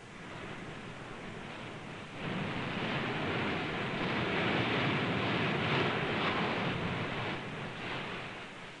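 Waves roll in on the Goishi coast at Ofunato, Japan, a rocky cape with a black-pebble beach; a soft, continuous surf hiss sits under light wind and grows a little fuller partway through.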